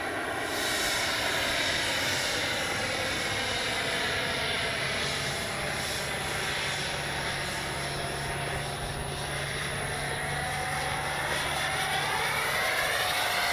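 A 64mm EDF RC jet model of a MiG-29 flies past, its electric ducted fan producing a continuous loud whining roar with a high steady tone that shifts in pitch as it passes, with no talk over it.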